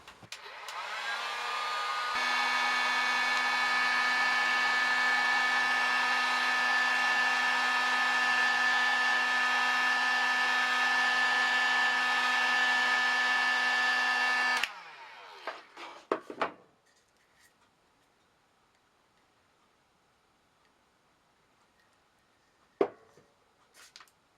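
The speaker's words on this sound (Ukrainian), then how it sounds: "Далі я запаюю термозбіжні ковпачки за допомогою будівельного фену." A steady, loud whirring heat gun hums for about twelve seconds while shrinking caps onto bottles of homemade grape brandy, then cuts off, followed by a few light knocks and handling clicks in near silence.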